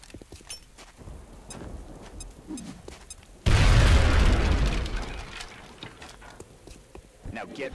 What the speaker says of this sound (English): Now toss your grenade at the enemy in front of you.